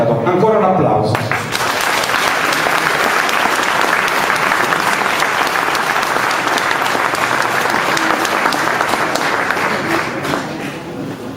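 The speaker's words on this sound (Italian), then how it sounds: "Ancora un applauso." Audience applause inside the church of Santa Maria di Bonarcado after a choir performance: dense, sustained clapping from a large crowd, loud and even for about ten seconds before easing slightly, with a voice briefly heard at the start.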